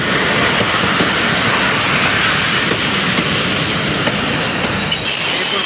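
The 150 Down Mehran Express passenger train, led by locomotive JMU 30R 8210, departing Moradabad railway station in rainy weather, a loud, steady rumble with clickety-clack of wheels and a brief squeal near the end, close by.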